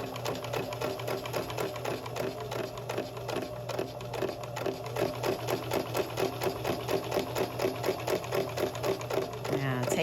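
A Kenmore 385 series sewing machine stitches a buttonhole automatically with its attachment, a steady, fast, even rhythm of needle strokes and motor hum, loud and close, running without a break.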